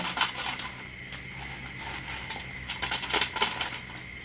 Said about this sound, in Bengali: দেখুন আমি সবগুলো কুরকুরে ভেজে নিয়েছি। কত সুন্দর আওয়াজ হচ্ছে।